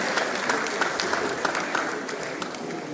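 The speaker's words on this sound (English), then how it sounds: "can we give another echoing round of applause?" Steady applause from a large audience at a business investment summit in Lagos, dense continuous clapping filling the hall with a few sharper claps standing out, fairly loud throughout.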